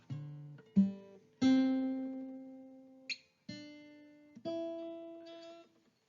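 A dissonant chord built from stacked fourths, played as several separate struck chords with decaying tones, each sounding alone and clearly with short gaps between.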